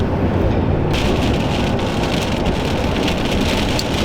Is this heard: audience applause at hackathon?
no